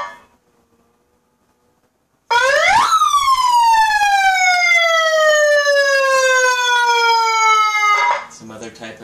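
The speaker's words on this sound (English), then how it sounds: "Some other type of alarm, siren." Siren tone from a 100W 12V car horn PA system with megaphone: after a quiet gap, a loud wail sweeps up and then slowly winds down in pitch, held steady for several seconds before cutting out.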